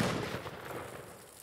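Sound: rifle gunshot

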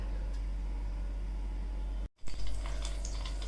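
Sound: medu vada dropped into hot oil for frying

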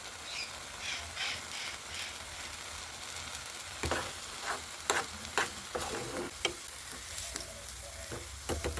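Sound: onions and lentils stirred and frying in a pan

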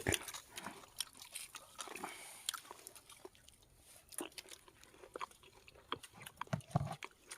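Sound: chewing roasted pork

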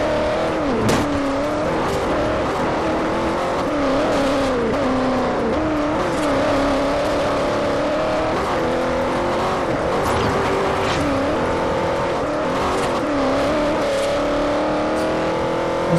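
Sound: 1957 Chevy Bel Air engine revving, video game Forza Horizon

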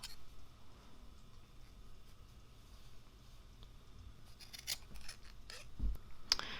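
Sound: scissors cutting fabric for a DIY mask

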